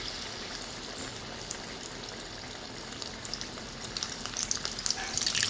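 Pakora pieces frying in a generous amount of hot oil give a steady, close crackling sizzle that grows busier and more spattery toward the end, with no voices.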